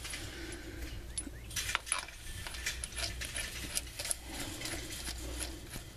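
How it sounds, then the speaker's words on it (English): A crank pulley goes back onto a Honda J-series V6 engine during a timing belt replacement, with close metallic clinks, rattles and ratcheting scrapes under a steady low hum, no speech. "I'm gonna go ahead and put my crank pulley back on temporarily."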